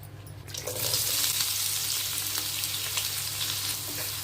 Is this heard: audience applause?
no